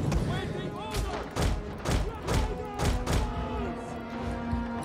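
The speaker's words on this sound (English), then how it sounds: "These ballistae should be working overtime on just pounding the enemy repeatedly." Ballistae in Rome Total War 2 pound enemy troops in a battle, a rapid run of heavy thumping impacts about every half second over a dense battlefield din of clashing and shouting.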